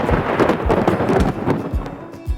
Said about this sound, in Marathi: पावसाळी वादळात अचानक वीज कडाडते.